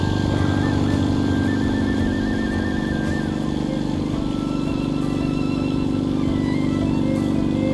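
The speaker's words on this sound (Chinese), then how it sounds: "我们需要用这个真空泵来把里面的气泡消掉" A vacuum pump draws air bubbles out of a honey mixture being made into mock amber, its motor giving a loud, steady, unbroken drone with a constant mechanical hum throughout.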